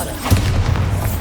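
A Bombarda spell explosion in Hogwarts Legacy lands as a single loud, deep boom with a thudding low rumble that lingers briefly, close and forceful.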